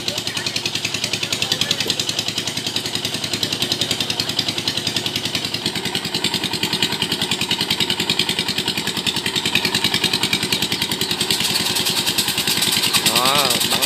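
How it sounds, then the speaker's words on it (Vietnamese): A Komatsu excavator engine, flood-damaged and just refitted with injectors, runs with a steady rapid mechanical chatter and a rougher burst near the end; a voice talks over it. "mấy anh em mới gắn bét vô để mà cho động cơ nổ nha"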